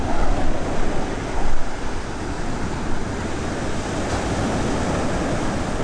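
Stormy sea surf washes over a pebble beach at a Turkish seaside hotel with a pier in Kuşadası, giving a loud, steady roar of churning waves and broadband rush with no voices.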